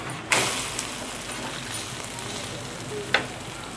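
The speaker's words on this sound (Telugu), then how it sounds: "ఇప్పుడు ఆమ్లెట్ని వేగిన తర్వాత తిప్పుకోవాలి." An egg omelette fries in a hot pan, giving a continuous soft sizzle with two sharper crackling bursts near the start and end, and no talking.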